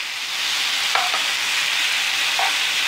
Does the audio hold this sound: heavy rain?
no